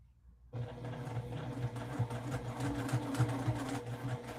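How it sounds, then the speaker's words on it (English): A sewing machine stitches around a quilted zippy bag panel. It starts after a brief quiet moment, then runs steadily with a fast, even mechanical clatter that stays close and fairly soft. "So let's go ahead and stitch all the way around."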